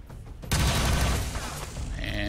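Gunfire in XCOM 2: War of the Chosen, a sudden loud blast followed by a dense, crackling volley that slowly decays, with no voices.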